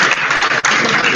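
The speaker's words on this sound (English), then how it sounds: "I know that clapping is an indication to complete the class." A lecture-hall audience applauds at the close of a yoga class, a dense, steady wash of many hands clapping with a brief dip in the middle, loud and close throughout.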